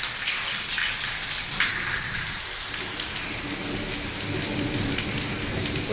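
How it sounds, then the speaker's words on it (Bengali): Heavy rain pouring outside a house balcony in Shailkupa during Baishakh, a dense, loud hiss of drops pattering on surfaces with water pooling, continuous and unbroken with no voices. "প্রচুর বৃষ্টি হচ্ছে বাইরে।"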